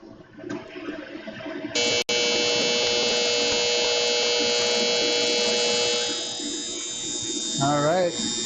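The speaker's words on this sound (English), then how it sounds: "that annoying buzzer means it's time to add some more hops" A homebrewing timer buzzer sounds a loud, steady electronic drone that holds for several seconds before tapering in level, with a voice speaking near the end.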